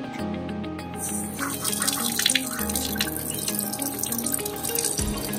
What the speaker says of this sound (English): we're excited to see if we have running water in the bus